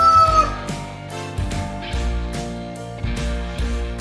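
Rooster crowing in the morning in an animal sound game for kids, a drawn-out call standing out over steady rhythmic background music.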